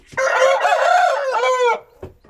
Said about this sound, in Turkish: Süslü yakışıklı horozum benim.